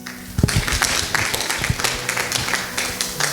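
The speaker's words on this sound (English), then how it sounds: "Allow me to welcome with a round of applause Mr. Nakada for his lecture on agriculture and rural development" Applause from a seminar audience greets a guest lecturer on agriculture and rural development, many hands clapping in a dense, steady patter over a low background hum.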